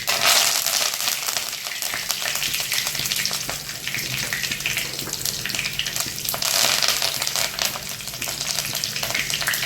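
Curry leaves, dried chilli and mustard seeds sizzling in hot oil in a pan, a loud, dense, crackling fry that holds steady throughout with brief flares of spattering.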